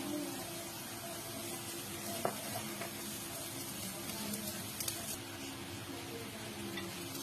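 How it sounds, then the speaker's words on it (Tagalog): Garlic and onion sautéing in a pan give a steady, soft sizzling hiss that stays even throughout, with a couple of faint ticks and no voices. "maggisa ng bawang at sibuyas."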